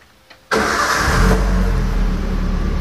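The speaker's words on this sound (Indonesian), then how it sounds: "Baik, kita nyalakan lagi mesinnya." A 2005 Toyota Avanza engine cranks and catches in one sudden burst, then settles into a steady, loud idle close by, with no talking.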